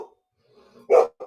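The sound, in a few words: dog barking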